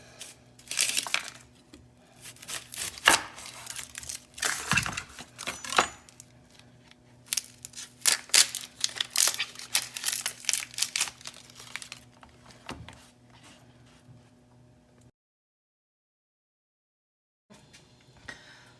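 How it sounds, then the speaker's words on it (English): A knife chops half an onion into even dice on a cutting board, giving close, irregular bursts of crisp taps and crunches, followed by a brief silence and then a few more cuts. "cut up about a half an onion. You want nice, even dices."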